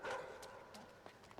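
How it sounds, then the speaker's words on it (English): Dog barking in the side-scrolling video game Inside, a couple of quick, fairly loud barks at the start followed by fainter yips and rustling game sounds. "bait the dog down the ramp and then run for it"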